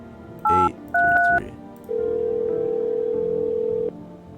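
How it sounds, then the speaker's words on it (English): Dialing tones from a phone in a horror-style video game, two short dual-tone beeps followed by a long steady ringback tone, clear and close with no talk over it. "Let's use our phone. Call Forrest."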